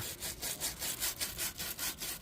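Oily engine parts from a 1956 Chevy drag car scrubbed with a gasoline-dipped brush, giving a quiet, rhythmic swishing of repeated back-and-forth strokes, about eight in quick succession.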